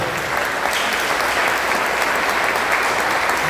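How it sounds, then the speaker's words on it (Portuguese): A church congregation claps loudly and continuously during a worship service, a thick, steady wash of many hands applauding with no speech over it. "Vamos aplaudir Jesus muito forte."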